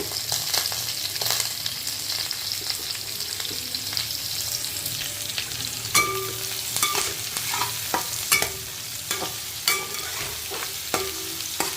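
Chopped onions and carrots fry in a pan for tomato masala rice, giving a continuous close sizzle broken by sharp clinks of a spoon stirring against the metal.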